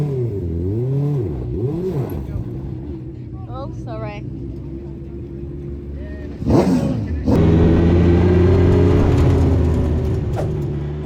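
A UK Modified race car at Mildenhall Stadium, its engine rising and falling in pitch as it revs, then a loud surge into a sustained roar, with someone talking over the first part.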